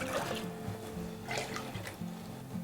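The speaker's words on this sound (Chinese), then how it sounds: "锅里放点清水。" Clean water pours into a wok as a brief, close, burbling stream with gurgling splashes that keeps running for a couple of seconds, with no voices.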